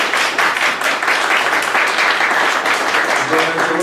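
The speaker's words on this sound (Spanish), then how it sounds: "Un aplauso, por favor, para" An audience applauds at a law lecture on scientific evidence in accusatory criminal proceedings, a steady, loud wash of many hands clapping without a break from start to end.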